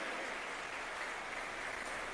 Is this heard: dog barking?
no